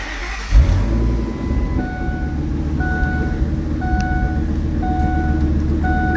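A 2002 Ford V10 Super Duty 4x4 truck idles steadily after the key is turned, with a low engine rumble throughout and a repeating electronic chime or beep sounding at regular intervals over it.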